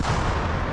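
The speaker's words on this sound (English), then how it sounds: "We hear a firefight going on as these troops are moving forward." Dense, continuous rumbling bursts of gunfire and booming artillery blasts blend into a loud, chaotic firefight roar, from combat in Vovchansk, Ukraine.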